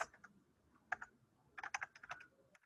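Typing on a computer keyboard in a classroom setting, heard as irregular bursts of soft key clicks, quiet and close, with a dense cluster of keystrokes toward the end.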